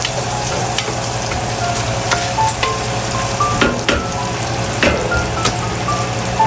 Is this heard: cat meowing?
no